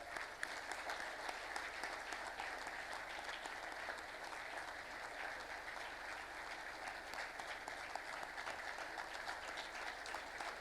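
A large audience at a public event in India keeps up continuous applause, a steady, dense roar of many hands clapping at an even level for the whole stretch, heard from some distance.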